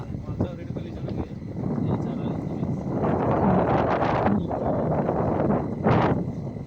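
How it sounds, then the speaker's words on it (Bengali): Steady wind in the Sundarbans mangrove forest buffets the microphone in gusts, with faint voices underneath and a stronger rush near the end. "সুন্দর সুন্দর হাওয়া, সুন্দর বনের হাওয়া।"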